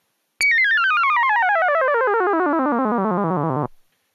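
A Gakken SX-150 Mark II analog synthesizer plays a square wave that starts abruptly and sweeps steadily downward in pitch over about three seconds, loud and alone, then stops sharply.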